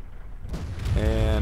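A single tank gun shot fired in the World of Tanks game by an FV215b 183 firing high explosive rounds, a sudden loud boom that swells and rings out briefly after a quiet moment.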